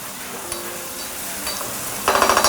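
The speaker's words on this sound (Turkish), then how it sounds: "Etimiz kavruluyor." Steady sizzling of meat frying in a pan for Antep erik tavası, a continuous crackle with a few faint clinks, growing brighter and louder near the end.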